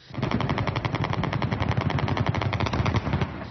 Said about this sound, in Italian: Si sentono spari ed esplosioni